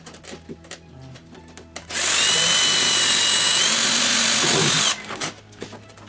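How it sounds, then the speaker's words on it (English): Power drill boring holes during a boat build, a loud, steady high-pitched whine lasting about three seconds, starting and stopping abruptly, close by, with quiet handling sounds before and after. "Drill the holes very carefully."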